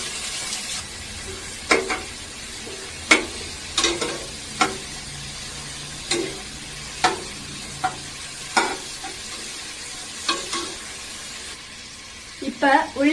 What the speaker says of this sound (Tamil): இப்ப நம்ம நறுக்கி வச்சிருக்க பல்லாரியை சேர்த்துடலாம்.